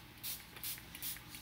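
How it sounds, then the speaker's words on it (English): Three quick hissing spritzes from a spray bottle of steeped tea misting paper, evenly spaced and close by, with a soft low room hum underneath. "I put tea in a spray bottle"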